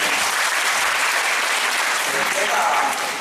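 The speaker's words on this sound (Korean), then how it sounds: "큰 박수로 환영해 주십시오." Audience at a parents' lecture hosted by a youth counseling center applauding to welcome the speaker, a loud, dense burst of clapping that stays steady from start to finish.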